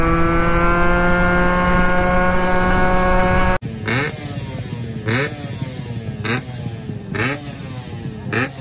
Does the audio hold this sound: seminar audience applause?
no